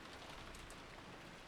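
Steady rain patters and hisses under wind in the Umineko visual novel, a faint, even wash of falling drops with no voices.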